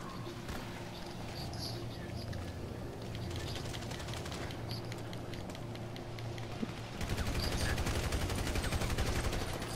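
Rapid gunfire crackles through a Grand Theft Auto V shootout, dense bursts of shots continuing steadily and growing louder and heavier near the end, with a voice murmuring faintly underneath.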